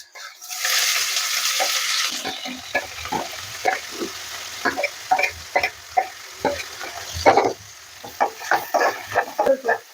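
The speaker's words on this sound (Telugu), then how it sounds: "ఇప్పుడైతే ఆయిల్ అయితే వేడైపోయింది ఆనియన్స్ వేసుకుందాం" Onions dropped into hot oil for a country chicken curry burst into a loud sizzle, followed by repeated scraping stir strokes against the pan in an uneven rhythm, close and alone.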